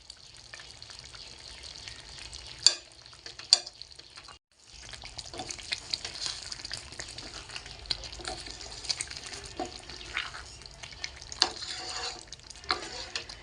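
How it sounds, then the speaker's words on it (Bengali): Milk paneer stirred as it fries in a teaspoon of ghee in a pan, a steady soft sizzle with scraping spoon strokes and occasional clinks, briefly cut off then resuming, close and without talk. "এখন আমি 1 চা চামচের মতো ঘি দিয়ে দেব।"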